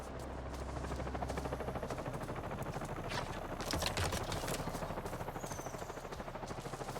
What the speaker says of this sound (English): You hear a helicopter in the distance.